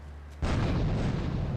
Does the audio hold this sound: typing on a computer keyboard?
no